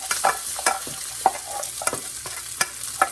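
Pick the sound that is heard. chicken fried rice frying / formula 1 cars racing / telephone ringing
chicken fried rice frying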